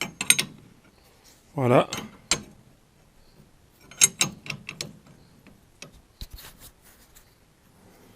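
A 21 mm wrench unscrewing a shock absorber cup on a Duster, sparse metallic ratcheting clicks and clinks in short bursts, close and quiet, with a brief spoken word.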